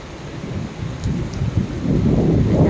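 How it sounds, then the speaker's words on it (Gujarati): Heavy rain pours down with a deep rumble of thunder rolling underneath, growing louder toward the end, heard from a home during a downpour. "અને વરસાદ ચાલુ થઈ ગયો જોરદાર."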